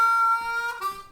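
A short harmonica phrase built on a bluesy 3-hole draw bend, with a few sustained reedy notes sliding in pitch, played alone and close.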